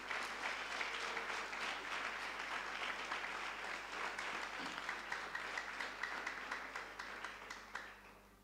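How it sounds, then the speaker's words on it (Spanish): A church congregation applauds after a pastor's sermon, sustained clapping from many hands filling the room, steady and moderately loud before slowly tapering off at the end. "Dale un aplauso."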